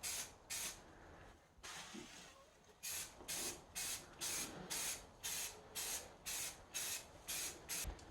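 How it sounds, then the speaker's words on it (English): Spray paint can being sprayed onto countertops during refinishing, a long hissing burst followed by a pause, then a steady series of short, evenly spaced spray bursts, fairly close and alone. "Smells like spray paint."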